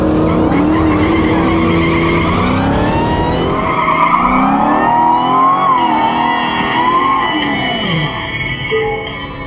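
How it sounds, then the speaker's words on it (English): A Tesla Model S and the Redeye line up at a drag strip amid loud, continuous engine and tire noise, with shifting whines and roars that stay close and strong throughout. "We're lining up with the Redeye one more time."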